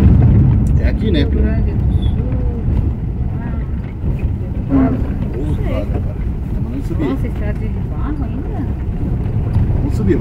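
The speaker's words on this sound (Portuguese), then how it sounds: "Nós estamos de Kombi. Estamos de Kombi." A Volkswagen Kombi van climbs a dirt road in Itá, Santa Catarina, with a steady low engine and road rumble mixed with wind buffeting, nearly covered by continuous talking from the people inside.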